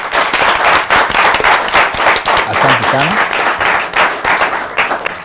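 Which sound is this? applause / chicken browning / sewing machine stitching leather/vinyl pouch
applause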